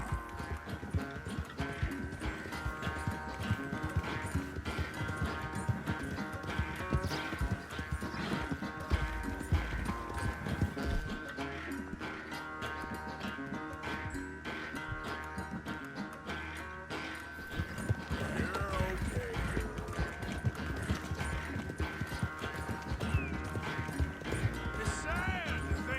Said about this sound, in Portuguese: O cavalo tá cansando.